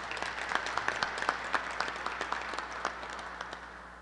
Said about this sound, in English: So let's give them a big round of applause too.